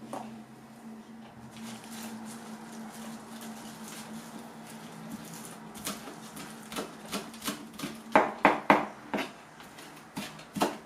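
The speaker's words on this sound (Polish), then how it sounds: "wkroję tu troszkę natki pietruszki" Fresh parsley chopped with a knife on a board, heard as a quiet kitchen background that turns into a run of crisp, quickening knife taps, loudest near the end.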